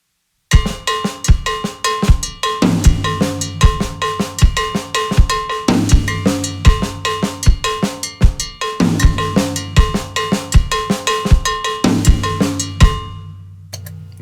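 Drum kit playing a Mozambique groove with a steady cowbell pattern on top and very quiet ghosted snare notes, loud and close, looping in a repeating funky pattern with kick accents and no talking.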